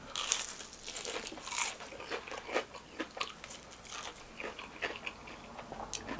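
Loud close crunches from biting into crispy-crusted homemade fried chicken, repeated bites and chewing at an irregular pace, with no talking.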